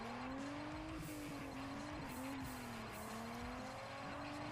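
A race car engine drones steadily with a rising and falling pitch as it shifts, with brief tire squeals, loud and continuous throughout, from a Barra-swapped Ford Falcon XR8 in the video game Juiced 2: Hot Import Nights.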